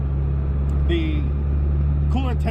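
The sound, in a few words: SRT-4 swapped Plymouth Spirit R/T engine roaring while driving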